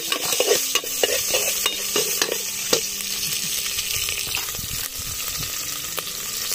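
A spoon stirs native chicken adobo with coconut milk, lemongrass and garlic in a sizzling pan. Scraping strokes come in an irregular rhythm over steady frying hiss, close and moderately loud.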